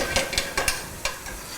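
Shallot and garlic sauté with mushrooms in a pan, a close, steady sizzle broken by several sharp stirring scrapes in a quick, uneven rhythm, with no talking.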